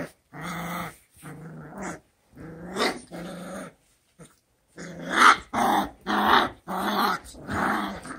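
Puppies from a litter growl and squeal in repeated short bursts, close and fairly loud, with brief yips and whimpers between the louder outbursts.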